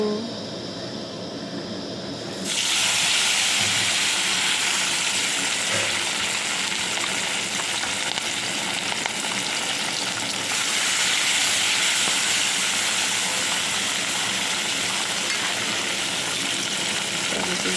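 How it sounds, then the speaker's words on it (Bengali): Fish sizzle in hot oil in a wok in a Bengali home kitchen for a fish curry, a loud continuous frying hiss that bursts in abruptly after a quieter start and holds steady, with no talking. "কড়াই দেখো তেল কিন্তু আমার গরম হয়ে গেছে এবার কিন্তু আমি মাছগুলো ভেজে নেব"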